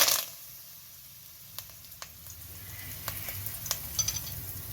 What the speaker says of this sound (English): as soon as they splutter, we are going to add curry leaves